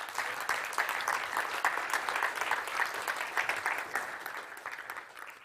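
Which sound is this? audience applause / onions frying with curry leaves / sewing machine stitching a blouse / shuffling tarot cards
audience applause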